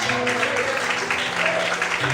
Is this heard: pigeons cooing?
no